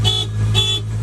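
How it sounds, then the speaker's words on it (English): Two short honks sound from a car's horn at a dealer auction, loud and close, with a brief gap between them. "And we got a horn."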